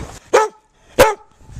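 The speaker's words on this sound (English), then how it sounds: "Someone who really enjoys that is my dog" A dog out in snowy January weather in St. John's barks twice, loud and close, with a short pause between the two sharp barks and quiet around them.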